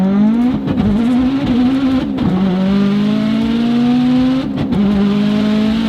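A 732 WHP Subaru WRX on E85 revs hard close up, its loud engine note rising and falling in repeated pulls with brief dips between, continuous and unaccompanied by talk.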